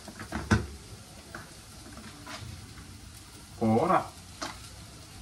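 Onions sauté in a pan for chicken curry, a quiet background frying hiss with scattered stirring taps, while people talk briefly over it.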